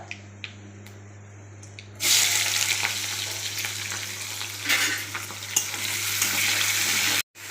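Cauliflower and potato curry hitting hot refined oil, a quiet stretch then a sudden loud, continuous sizzle and crackle of frying with stirring, close up, briefly cutting out near the end.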